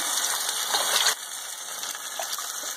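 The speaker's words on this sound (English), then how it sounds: "I'm putting in some water right now" Water poured into a pot of passata tomato sauce, a bright continuous gushing splash that cuts off abruptly about a second in, leaving a softer hiss and faint trickle.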